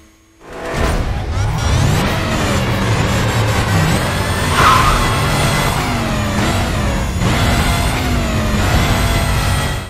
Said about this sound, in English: You'll get fantastic car sounds and engine revving.